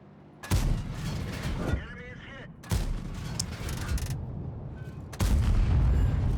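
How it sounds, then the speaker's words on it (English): Tank cannon fire in World of Tanks, three sharp booming shots spaced a couple of seconds apart, each followed by rumbling decay and mechanical noise. "I had to fire there because he's going to start turning his turret too much."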